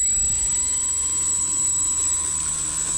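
An RC Carbon Cub S2 airplane flies nearby with a steady, high-pitched electric motor and propeller whine that holds at an even loudness for the whole stretch.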